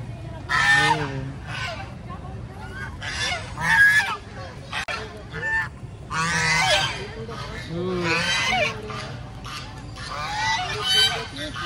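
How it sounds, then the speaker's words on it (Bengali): Live ducks honking and quacking loudly at a small pond in a temple park at the ISKCON temple in Kolkata, repeated calls in bursts with a person talking over them. "এই দেখুন, এটা জ্যান্ত হাঁস নয়, এখানে জ্যান্ত হাঁস রয়েছে।"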